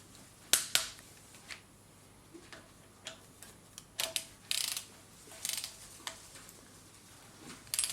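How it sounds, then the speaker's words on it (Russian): Torque wrench tightening cylinder head bolts on a 1.8 TSI engine during a rebuild: a scattered series of sharp, faint metallic ticks and clicks, irregularly spaced, in a quiet workshop. "Сейчас идет затяжка ГБЦ."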